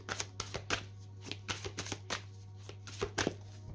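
Tarot cards are shuffled and cut by hand on a table, giving a quiet run of crisp riffling bursts and soft slaps at an uneven rhythm over a low steady hum.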